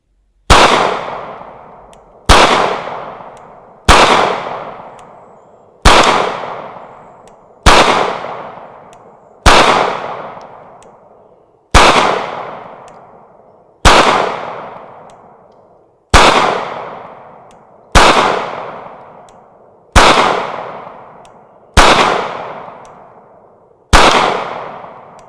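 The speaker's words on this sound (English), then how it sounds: "Let's try a 9mm next out of the Security 9." A Security 9 pistol fires 9mm rounds at a cast iron griddle target, giving about thirteen sharp, loud shots with ringing impacts at a steady pace roughly two seconds apart, each decaying quickly into near silence.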